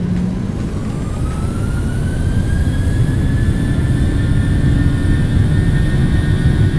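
Jet airliner engines in a flight simulator spool up to takeoff thrust, a loud steady roar with a rising whine climbing in pitch, heard alone and close throughout.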